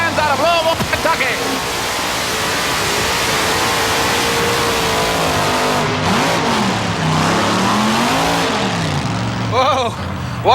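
A four-wheel drive class pulling truck with a high-performance built engine roars loudly during a truck pull run at an indoor event in 1987, revving steadily with pitch swings under crowd noise and an announcer's talk.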